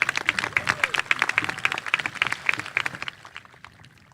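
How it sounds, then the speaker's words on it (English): A graduation crowd at Romeoville High School's commencement applauds with a dense patter of many hands clapping at once, fairly loud and steady before thinning out toward the end. "Could we get a quick round of applause for all the speeches that were before me?"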